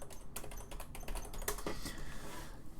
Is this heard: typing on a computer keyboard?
yes